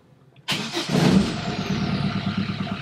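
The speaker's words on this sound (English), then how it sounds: "let's start the engine, see what that does" A sailboat's engine cranks and catches with a sudden loud burst, then settles into a close, steady, throbbing idle.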